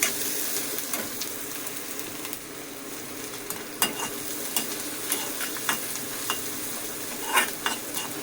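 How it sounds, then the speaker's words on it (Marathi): Onion, garlic and curry leaves fry in hot oil with a steady close sizzle, while a spoon stirs and scrapes the pan with occasional sharp clinks. "हे बघा, कढीपत्ता टाकलेला आहे, लसूण टाकलेला आहे, कांदा टाकलेला आहे तेलामध्ये"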